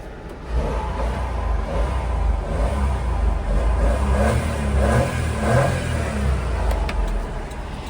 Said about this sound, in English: Give it a couple revs for you.